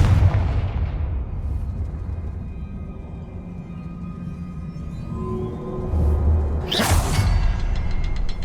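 Confringo blasting spell in Hogwarts Legacy: a loud boom that fades into a low rumble, then a sharp bright whooshing burst near the end, with no talk.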